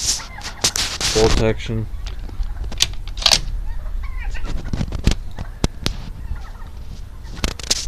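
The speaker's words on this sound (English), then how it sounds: "Sorry about the turkeys." Turkeys gobble loudly in bursts close by, with further scattered gobbles and clucks, while someone talks over them outdoors.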